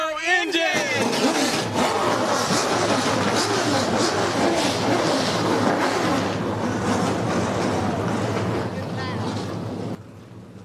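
Stock car engines at Langley Speedway, a short oval, fire up together into a loud, dense, continuous roar of many motors idling and revving at once, sustained for about ten seconds before dropping off abruptly.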